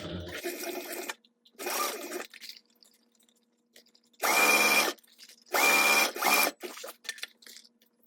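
A sewing machine basting fabric for a mini backpack runs in short bursts, whirring stitches in four separate runs with quiet pauses between them.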